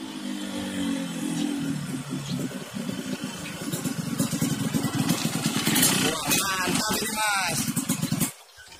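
A Yamaha RX King motorcycle engine runs steadily up close, giving a continuous mid-pitched drone for most of the clip. A voice is briefly heard near the end, just before the sound cuts off.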